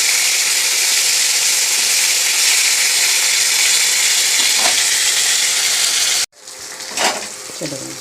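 Rohu fish frying in a pan gives a loud, even close sizzle for about six seconds, then cuts off sharply, leaving quieter clatter and a faint hiss, no talking.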